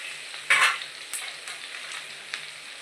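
Cashews frying in a pan for ven pongal, with a short burst of sizzling followed by a low, steady hiss and a few faint stirring taps.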